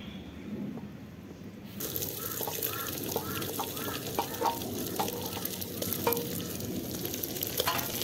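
Meat fries in a pan for an Eid dish, giving a steady close sizzle with occasional stirring clatter, and birds caw faintly in the background.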